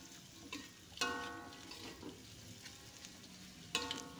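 Tofu fries in a pan with shallots, garlic and chili for sweet soy tofu, a soft steady sizzle with occasional clinks and stirring taps from a utensil, quiet and close, no talking.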